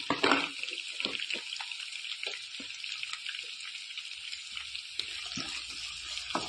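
Small onions sauté in a pan for chicken curry, giving a steady, fairly quiet sizzle and hiss punctuated by occasional stirring knocks and clinks.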